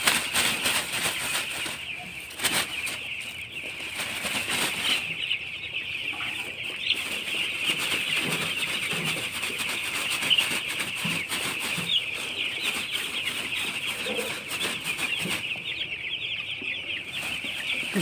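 Broiler chickens in a poultry flock cluck steadily while drinking vaccine mixed into water from rows of drinker pots, a dense, close chorus of clucks with occasional wing flaps running throughout.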